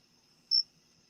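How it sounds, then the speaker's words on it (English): A single short cricket chirp rings out faintly against near silence, brief and alone. "The crickets?"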